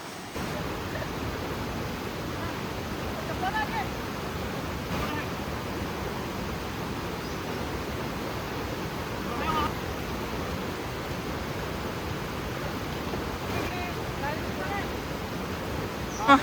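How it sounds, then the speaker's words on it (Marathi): A shallow river stream flows near a waterfall in Jawhar, a steady broadband rushing wash heard continuously with no clear talk over it. "बाकी थोडासा प्रवाह तर आहे, क्रॉस करावा लागेल."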